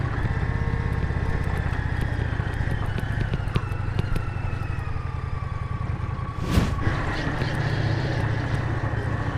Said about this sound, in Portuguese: E vem a moto com o grilo na correia